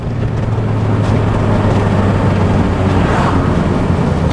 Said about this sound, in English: It makes the VTEC just sound that much better.